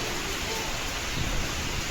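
Heavy rain pours during a storm with low thunder rumbling underneath, a dense steady roar close by, no voices.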